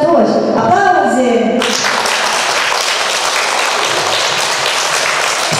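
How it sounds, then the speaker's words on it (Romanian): Applause breaks out at a child's birthday surprise, a dense, steady burst of clapping that starts after a brief moment of voices and music-like tones and carries on loudly. "Aplauze!"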